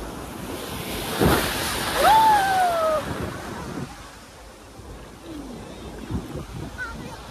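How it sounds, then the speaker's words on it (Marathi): Sea waves wash and break on a Goa beach in a rolling, surging rush, swelling and easing under a few faint voices and whistle-like tones in the distance. "सो गाईज लाट बघा लाट."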